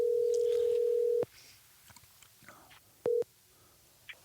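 A telephone call rings out as a steady tone for just over a second, then a short repeat of the tone after a quiet gap with faint rustles, close and clear, no talking.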